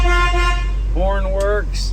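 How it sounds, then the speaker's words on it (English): Horn of a 1976 Ford F-150 four-speed, four-wheel-drive pickup sounds close and loud: two short toots, then a longer, slightly wavering honk, over a steady low engine idle. "horn works"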